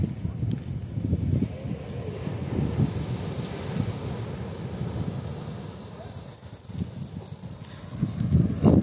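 Calm sea waves surge against the rocks of the harbour breakwater at Itajaí, rising and falling in soft swells beneath steady gusts of wind buffeting the microphone.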